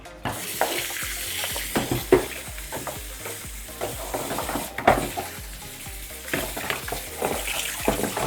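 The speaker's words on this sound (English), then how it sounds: "And then we're going to stir this together." Goat meat for peppered asun, a Nigerian grilled goat dish, being stirred through sauce in a pot: scraping and clinking stirs recur irregularly over a steady sizzle, fairly close and with no talking.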